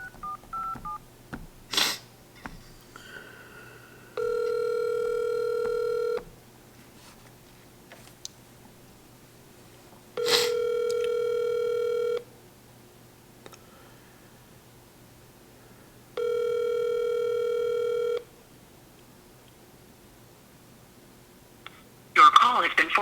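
A telephone sends three long, steady tones of about two seconds each at regular intervals over a faint background hum, with a brief burst of louder sound at the very end, while someone calls clients for estimates.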